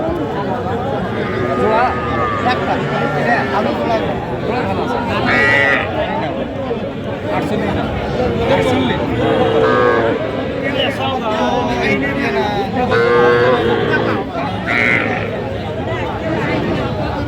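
Cattle, including bulls and calves, low now and then amid a crowded, noisy cattle market in Sylhet, their calls partly buried under steady chatter and nearby voices.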